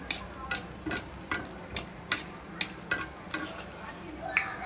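Dough sizzles and puffs in hot oil, a soft continuous frying hiss broken by frequent sharp crackling pops and spatters at an irregular rhythm, close and fairly quiet.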